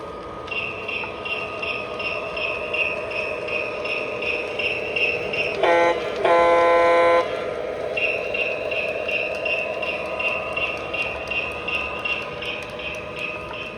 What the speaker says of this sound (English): The train is operational, so I'll show how that works.